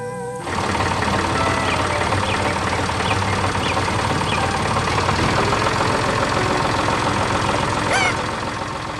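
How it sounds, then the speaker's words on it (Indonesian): Farm tractor engine running steadily, a close, continuous mechanical drone with rattling, knocking texture and a brief high squeal near the end, with no talk. "Dengan suara mesin yang tenang, traktor itu menggerakkan tanah dan menanam kehidupan baru."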